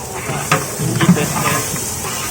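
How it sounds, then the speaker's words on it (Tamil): Ginger-garlic paste fries and sizzles in a large biryani pot for a 25 kg batch of jackfruit biryani, with a spoon stirring it in steady scraping strokes over continuous close hiss. "இஞ்சி பூண்டு பேஸ்ட் போட்ட உடனே அடி பிடிக்க ஆரம்பிக்குது நல்லா இட விடாமல் கிண்டிக்கிட்டே இருக்கணுங்க"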